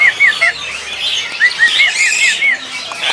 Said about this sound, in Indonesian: Betet Jawa, burungnya juga jinak juga ya.